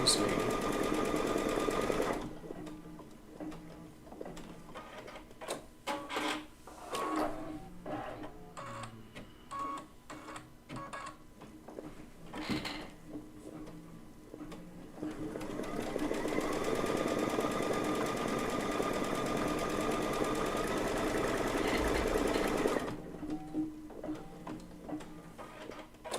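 A sewing machine runs placement stitches on quilt fabric, with rapid mechanical clatter in stop-start bursts and a longer steady run near the end, heard close with a few pauses.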